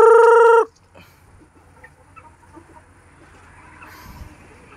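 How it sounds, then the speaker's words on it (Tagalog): A farm chicken lets out one loud, harmonic call at the start, then only faint ambient farmyard noise remains. "may mga manok na tayo guys"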